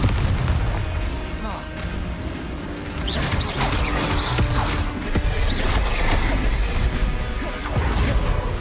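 A deep, rumbling explosion from the Confringo blasting spell in Hogwarts Legacy rolls on over sustained combat noise, with crackling bursts and scattered sharp impacts layered throughout.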